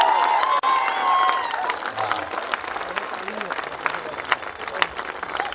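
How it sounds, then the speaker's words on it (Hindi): Audience applause at a Mi Lifestyle marketing event, a dense, steady clapping crowd filling the room for several seconds, with a few voices and a whistle cutting through over it. "इन लोगों के लिए भी जोरदार एक ताली बजा दो।"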